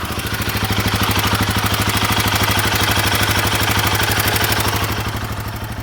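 A Royal Enfield Himalayan 452 motorcycle idling close by, its engine pulsing in a fast, steady rhythm with a mechanical clatter layered on top, loud and alone with no talk.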